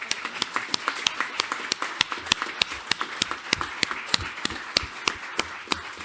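Sparse, distinct claps at a Brick Township council meeting, applause honoring the police department, each sharp hand clap clearly separated in an irregular rhythm, fairly close and moderately quiet.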